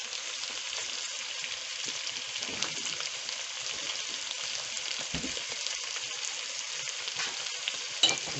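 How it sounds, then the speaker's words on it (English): Beef seasoned with Royco fries in a pan with a steady, bright sizzle, close and fairly quiet, with a few soft clicks of a utensil against the pan and no voices. "Fry it and let the meat blend well with the Royco"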